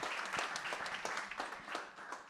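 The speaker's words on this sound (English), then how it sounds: "can we give a big round of applause to Emma as well for moderating this panel?" An audience at a climate and health panel gives a round of applause for the moderator, a moderate, fairly close crowd clapping with some individual claps standing out, no talking.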